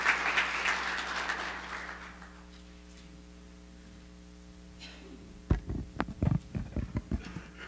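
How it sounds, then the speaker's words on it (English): Church congregation applauding after a sermon segment, a broad wash of clapping at the start that fades out over about two seconds, leaving a low steady hum before a few thumps and knocks near the end. "Can we all give them a round of applause?"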